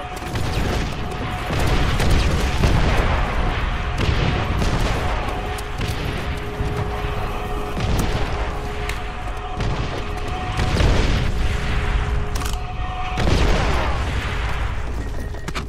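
An artillery barrage in Call of Duty: World at War online on PlayStation 3 rumbles with heavy booms and scattered gunfire over a dense battle din, loud and continuous for the whole stretch.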